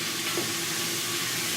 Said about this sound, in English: is already starting to sizzle over here